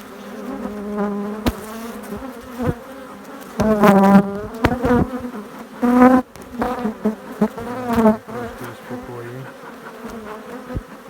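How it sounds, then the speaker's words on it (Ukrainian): Bees hum and buzz loudly around a wooden log hive, the droning rising and falling as individual insects fly close past, with no talk. "це бджолки."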